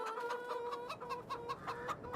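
A flock of chickens on a farm in Farming Simulator 22 clucks in a steady, overlapping stream of short calls, soft and moderately close, with no talking.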